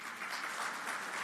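An audience applauds at an official launch of medicinal cannabis special permit programmes, a brief, even wash of clapping from a crowd at moderate distance.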